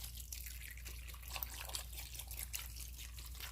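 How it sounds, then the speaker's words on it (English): Chicken broth pours steadily into a slow cooker as a continuous close trickle and splash, with small drips breaking through, no talking. "Now we're going to add the chicken broth."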